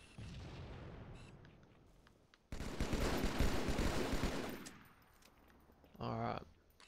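Gunfire and explosions in Halo MCC classic multiplayer, with dense bursts of automatic fire and booming blasts in loud waves, plus a sharp burst near the end and a player talking at times.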